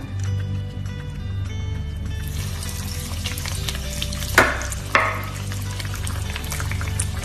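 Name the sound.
egg-dipped bread pockets frying in hot oil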